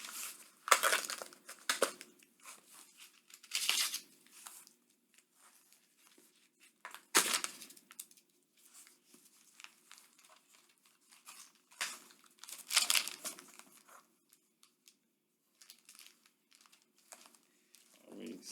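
Tape is peeled and torn off a comic book package, giving quiet, close crinkling and ripping bursts spaced irregularly with pauses between them.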